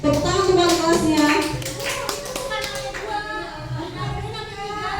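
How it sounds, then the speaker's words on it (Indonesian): A school assembly claps for top-scoring students, a burst of many hands tapping together over overlapping voices and an amplified speaker. "Tepuk tangan kembali kelasnya."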